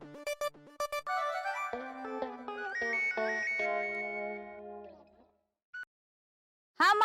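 A phone on speakerphone rings with an electronic melody: a run of stepping, chiming tones that hold and then fade out. Short vocal bursts come before and after the ringing.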